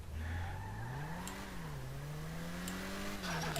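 A 2017 Nissan GT-R R35 Convertible drifting in a video game: the engine revs and whines, its pitch rising and falling steadily, with a brief squeal near the end; loud and continuous.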